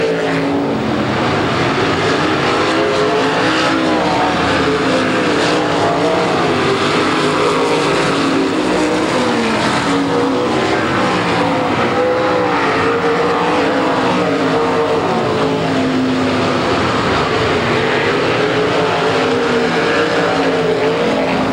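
Race cars roar continuously around a track in a loud, sustained engine drone with rising and falling pitch as they pass and overtake one another, with no talk over it.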